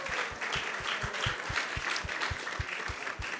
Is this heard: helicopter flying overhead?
no